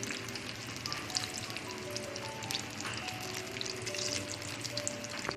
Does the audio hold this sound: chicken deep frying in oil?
yes